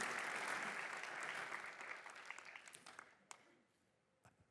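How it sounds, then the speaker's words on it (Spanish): A church congregation breaks into applause, dense and steady at first, then thinning into scattered claps and fading out near the end. "Yo les pido que le demos un aplauso a todos estos hermanos que demuestran su amor al Señor"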